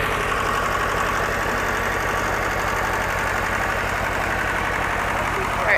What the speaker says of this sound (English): We got Frank on the tractor.